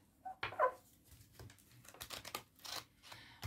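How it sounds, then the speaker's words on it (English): Tarot cards being shuffled: a string of short papery riffles and flicks, close and fairly soft, coming in quick uneven bursts. "I'm just going to shuffle the deck a bit."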